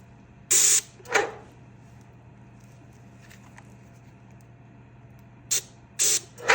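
Short hissing bursts of water from a paint spray gun, two in a quick pair, then a quiet pause, then three more in close succession, near and loud.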